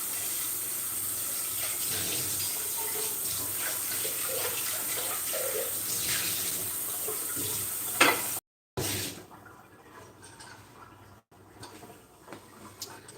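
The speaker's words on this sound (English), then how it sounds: "I'm going to go wash out this pan really quick" A pan is washed out under a running kitchen tap, a steady close splashing rush of water that cuts off abruptly, followed by quieter clinks and handling noises.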